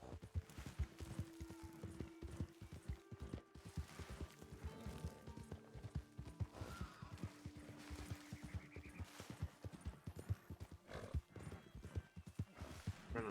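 A horse gallops steadily in a Western-style video game, rapid rhythmic hoofbeats running throughout with a brief whinny, up close and prominent, with no talk over it.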